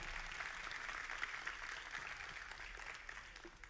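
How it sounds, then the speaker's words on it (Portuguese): Audience claps for participants after a group activity at a motivational talk; soft, continuous applause from a sizable crowd, faint and somewhat distant throughout. "Salve de palmas para eles."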